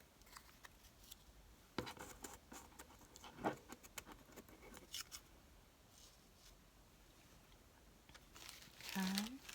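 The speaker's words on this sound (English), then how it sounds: "I'm gonna have to grunge this music paper up a little bit." Music paper is crumpled and crinkled by hand in a quiet room, with scattered soft rustles and a few sharper crunches, plus brief speech.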